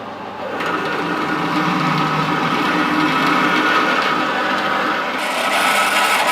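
A steady grinding, whirring drone of a drill cutting into warm metal on a lathe, turning slowly, loud and continuous with no talking.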